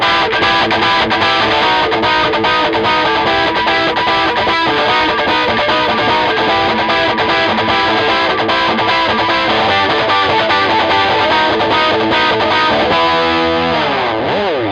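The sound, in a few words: electric guitar crunch tone, rhythm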